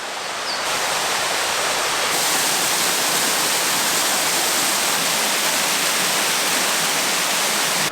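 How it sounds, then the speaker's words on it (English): A waterfall along a Great Smoky Mountains trail pours in a constant, dense rushing hiss, close and loud, without pause or voices. "Coming up on our second waterfall."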